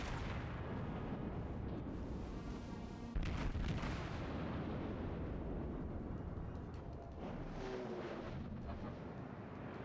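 Tirpitz battleship main guns fire in World of Warships, thunderous booms with one heavy volley standing out midway over a continuous rumbling battle din.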